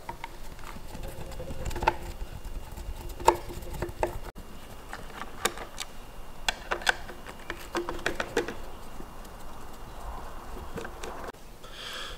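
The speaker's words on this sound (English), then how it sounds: "And then we're going to remove the four screws" Faint clicks and small metallic taps of screws being removed from a plastic pool valve actuator cover, scattered irregularly over a quiet background.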